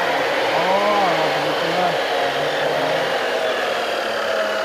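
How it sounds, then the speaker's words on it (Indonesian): An electric metal cutting machine runs steadily with a loud, continuous motor whine that holds throughout, with no talk over it. "Ini motong besi tuh. Ini alat pemotong besi ya."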